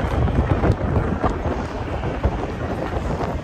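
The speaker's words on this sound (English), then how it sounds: "Oh, it's windy here in the windy city." Strong wind buffets the microphone outdoors near Wrigley Field in Chicago, a continuous low rumbling roar that swells and eases without letup.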